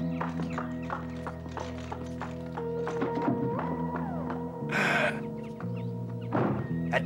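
Horse hooves clopping and thudding against a backdrop of sustained music, with a burst of noise partway through.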